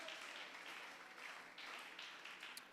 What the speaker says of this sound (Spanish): Alabe al Señor con ese aplauso.